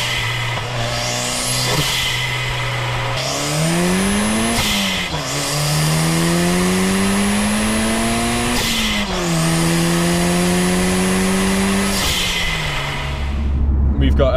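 A turbocharged Toyota Celica GT4 four-wheel-drive engine with a boost controller set to 1.1 bar revs up in several long rising pulls, each easing off briefly before climbing again, loud and close throughout.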